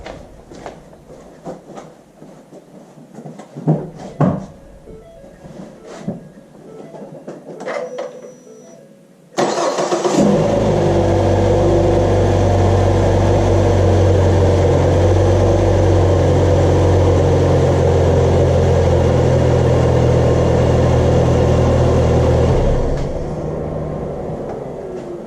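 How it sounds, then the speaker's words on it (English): A car engine, just fitted with a new belt tensioner, cranks and catches at once after a quiet stretch, then settles into a loud, steady idle that continues for more than ten seconds before easing slightly at the end. "Let's go ahead and give it a start."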